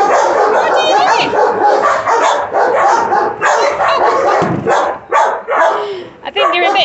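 Puppy barking and yipping close up in rapid, excited bursts, with a few small whimpers mixed in.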